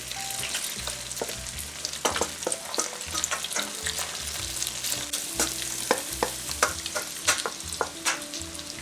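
Potato slices frying in oil in a pan for Persian potato tahdig, a continuous busy sizzle with crackling pops and occasional clinks, no talk.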